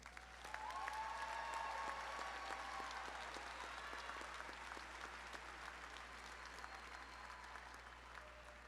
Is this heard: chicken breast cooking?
no